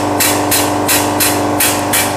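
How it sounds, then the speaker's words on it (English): A diaphragm pump moves cold waste motor oil, chugging loudly and close in a steady rhythm of about four strokes per two seconds, each stroke a bright hissing pulse over a constant low drone. "this pump is chugging along, even with straight oil"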